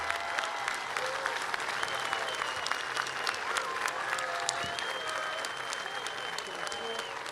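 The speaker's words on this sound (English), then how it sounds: "How about a round of applause for the first half?" A graduation crowd in a large hall applauds continuously, dense clapping at an even level throughout with faint voices and cheers mixed in.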